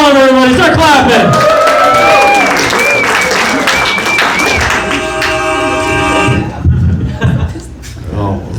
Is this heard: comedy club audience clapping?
yes